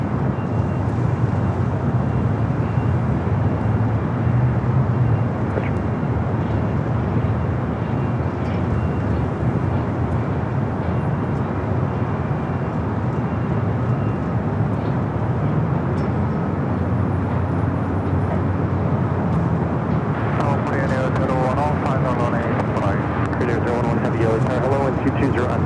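Airplanes at Los Angeles LAX airport: a steady, loud jet engine roar runs throughout, with voices talking over it.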